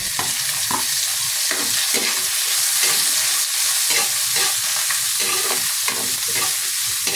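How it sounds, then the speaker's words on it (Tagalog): Ginger, onion and garlic sauté in a hot pan for sinigang, a dense, loud, steady sizzle and hiss with soft stirring scrapes, close and without speech. "igisa lang natin to hanggang lumabas lang yung aroma"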